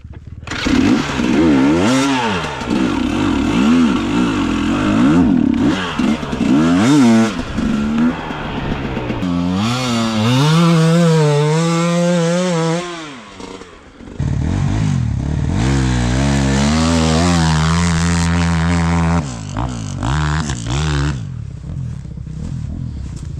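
A tuned GNS 300 enduro motorcycle engine revs in loud, wavering bursts, pitch rising and falling repeatedly with a brief drop near the middle before climbing again.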